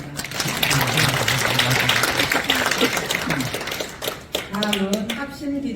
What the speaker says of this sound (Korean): 다시 한번 감사 박수 부탁드립니다